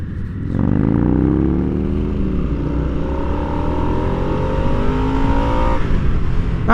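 A 2022 Harley-Davidson Nightster motorcycle engine revs at about quarter throttle, loud and close, climbing in pitch and holding a steady drone for several seconds with no talking.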